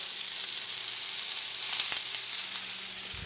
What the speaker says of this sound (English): So we'll let that kind of sear up for a little bit.